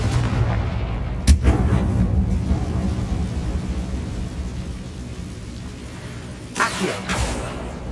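Confringo fire spells burst in Hogwarts Legacy, two loud booming blasts roughly five seconds apart over a rumbling, crackling game ambience with no talk.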